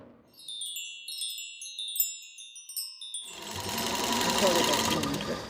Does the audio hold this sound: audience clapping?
no